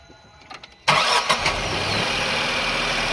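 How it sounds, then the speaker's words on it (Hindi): A 2024 Tata Nexon car's engine cranks and catches after a brief quiet moment, then settles into a loud, steady idle close to the microphone, with no voices present. "तो फ्रेंड्स पहले हम कार को स्टार्ट कर लेते हैं, फिर टेस्ट करते हैं।"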